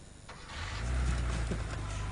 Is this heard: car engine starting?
yes